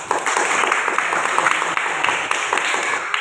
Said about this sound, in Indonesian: Berikan dulu aplaus buat teman-teman yang menjawab.